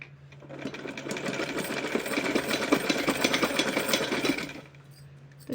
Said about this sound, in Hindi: पूरे पट्टी पर सिलाई लगा करके लेस को मैंने कंप्लीट कर दिया है